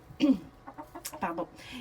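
Farm hens close by give a few short clucks and throaty calls in quick bursts, with a person speaking over and between them.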